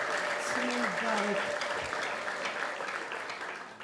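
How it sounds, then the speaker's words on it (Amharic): A church congregation at a monthly conference claps along, a dense, full burst of many hands that fades gradually, while a voice speaks over it at the start. "በደንብ አጨብጭቡ"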